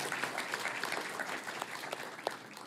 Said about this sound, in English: That's where we clap and make a lot of noise.